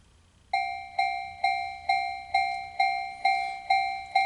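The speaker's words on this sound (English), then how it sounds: "We've got a railroad crossing." A railroad crossing sound effect from a Yamaha PSR E273 keyboard rings as a clear electronic bell, eight evenly spaced dings that each fade before the next.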